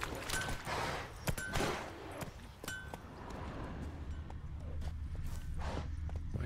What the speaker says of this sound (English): Get on my horse, dude.